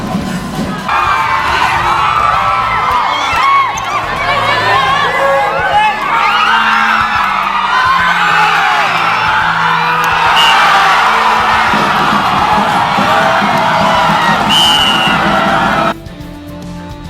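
Supporters at a school sports event cheer, shout and clap continuously as a loud, dense crowd, with children's shouts and whoops standing out; the roar drops off near the end.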